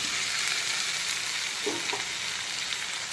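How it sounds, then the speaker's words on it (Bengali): Boiled and drained taro stolons added to a pan of frying shrimp, giving a continuous hissing sizzle at moderate level with a couple of soft knocks midway. "এখন দিয়ে দিচ্ছি সেদ্ধ করে জল ঝরিয়ে রাখা লতি।"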